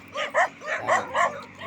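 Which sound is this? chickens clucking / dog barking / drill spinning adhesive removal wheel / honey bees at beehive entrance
dog barking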